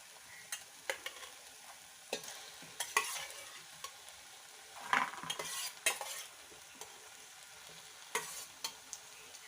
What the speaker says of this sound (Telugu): ఇప్పుడు మనం ప్రాన్స్ అనేవి వేసుకుందామండి